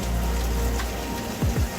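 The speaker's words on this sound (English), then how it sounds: "It's quite a nice place to be actually, it's quite a relaxing sound, the rain on the roof." Heavy rain during a thunderstorm drums steadily on the roof of a Highfield Patrol 860 rescue RIB, a dense constant patter with a low rumble beneath and a couple of brief louder swells near the end.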